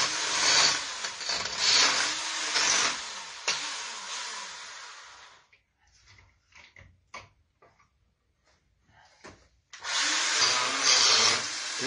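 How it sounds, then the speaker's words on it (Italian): A small chainsaw carves branches into a wooden Christmas tree, revving in loud, rough bursts, then going quiet with scattered knocks and scrapes before roaring again near the end. "con una piccola motosega"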